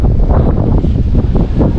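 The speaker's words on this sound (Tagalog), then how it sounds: "Ang lakas talaga ng hangin, sobra." Strong wind buffets the microphone in a steady, loud roar with gusty low rumbling throughout, and no voices.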